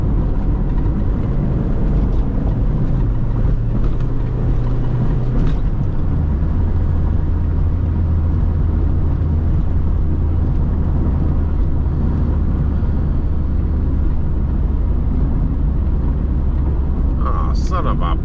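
The turbo engine of a 1987 Dodge Shelby Charger drones loud and steady from inside the car as it drives, with voices talking over it.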